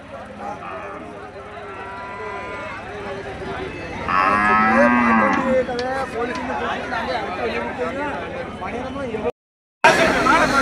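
Cattle moo repeatedly at a crowded livestock market in Melapalayam, loud drawn-out calls rising over constant crowd chatter and people talking nearby.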